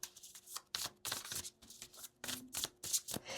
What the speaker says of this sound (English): So I'm just gonna shuffle, shuffle, shuffle.